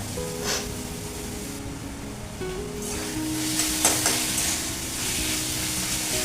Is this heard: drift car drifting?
no